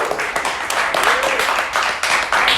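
A comedy club audience at a roast battle applauds and cheers steadily throughout, a dense wash of clapping with a few voices shouting over it.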